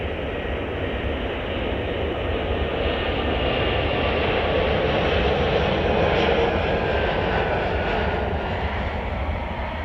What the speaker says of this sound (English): this is American Airlines flight 1930 going off to Fort Myers on the Astrojet retro livery here